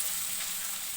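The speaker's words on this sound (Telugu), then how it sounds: "కొద్దిగా ఉడికిన తర్వాత మీడియం ఫ్లేమ్లో పెట్టుకొని ఫ్రై చేసుకోవాలి" Chicken frying in a pan on medium flame, a dense continuous sizzle heard close and alone for a brief moment.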